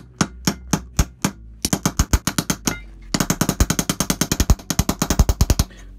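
A metal pipe is hammered flat for angle welding on a chainsaw-engine exhaust project, with loud, sharp, ringing blows. The strikes come singly and spaced at first, then in a faster, dense run of repeated hits.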